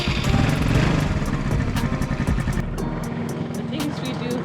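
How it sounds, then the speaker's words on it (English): A scooter engine in Thailand runs loud and close with a buzzing, slightly uneven putter, then eases off toward a lighter idle near the end. "Good old scooter."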